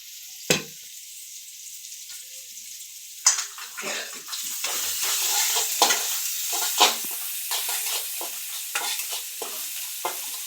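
Potato and vegetables fry in a pan, sizzling steadily while being stirred. A utensil knocks and scrapes against the pan at intervals, and the sizzle grows louder after the first few seconds.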